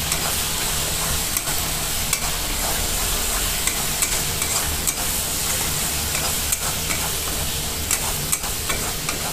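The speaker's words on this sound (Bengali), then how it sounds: "দিয়ে এভাবে নেড়ে আদা রসুনটা ভেজে নেব।" Ginger-garlic paste fries in hot oil with a dense continuous sizzle, punctuated by regular sharp scrapes and taps of a spatula stirring the pan up close.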